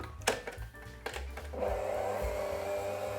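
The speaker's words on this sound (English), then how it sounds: "I will use only one egg and mix it all with this metal spatula." A metal spatula scrapes and mixes cottage cheese with one egg, a few sharp scrapes at first, then a steady close, continuous grinding stir, no talking.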